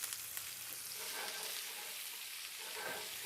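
Steady hiss and crackle of lamb chops sizzling in olive oil in a hot cast iron pan, fairly quiet and continuous, with no talking over it.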